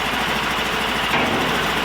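A Briggs & Stratton 20 hp V-twin engine on a Sears Suburban loader runs steadily close by, a loud, even rumbling drone with a slight rise near the middle and no break.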